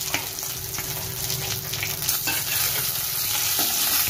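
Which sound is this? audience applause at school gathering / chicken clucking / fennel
fennel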